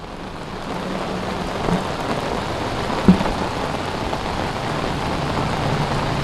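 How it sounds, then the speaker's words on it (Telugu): Heavy rain pours down steadily in Hyderabad in a dense, even hiss, with a couple of faint knocks standing out briefly. "హైదరాబాద్ లో అయితే అరగంట నుంచి ఇప్పటి వరకు కూడా విపరీతమైన వర్షం కురుస్తుంది"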